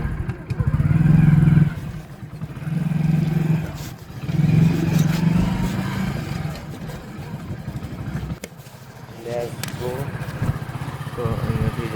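A motorcycle engine rumbles close by in repeated swelling runs while riding, with people talking over it and street background noise.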